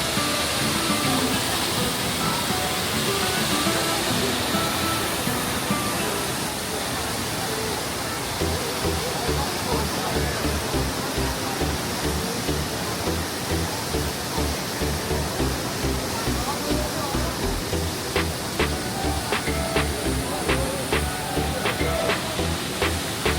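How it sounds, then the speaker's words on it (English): Düden Waterfalls in Antalya rush in a dense, steady roar of falling water that fills the whole scene, loud and close, with faint ticking or clicking sounds near the end. "you get this beautiful view of the waterfalls"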